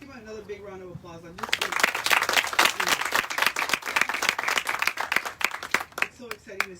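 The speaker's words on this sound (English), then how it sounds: "let's give him another big round of applause." A voice speaks briefly, then a crowd breaks into loud, sustained applause that carries on for several seconds before tapering slightly.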